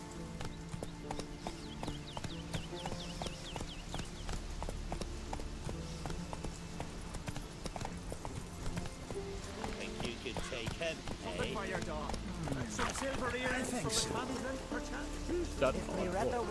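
Rhythmic clip-clop of the horse Roach's hooves trotting in The Witcher 3, steady and fairly close, with game music and ambient sound running underneath throughout.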